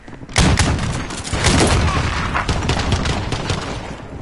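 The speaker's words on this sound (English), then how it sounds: "Explosions, jeez." Explosions and gunfire in Call of Duty Modern Warfare Infection mode, a sharp blast followed by a dense, rattling spray of rapid shots and bursts that continue loudly without pause.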